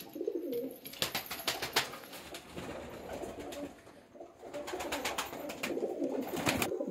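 Pigeons coo softly and repeatedly nearby, with rustling and flapping bursts breaking in at intervals.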